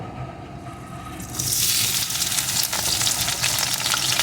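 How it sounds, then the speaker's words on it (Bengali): Pieces of pointed gourd drop into oil with panch phoron tempering spices, setting off a sudden loud, hissing sizzle after a quieter opening that then crackles on steadily. Nobody speaks. "ফোড়নটাকে ভেজে নিয়ে এর ভিতরে আমি দিয়ে দেবো কয়েক টুকরো পটল"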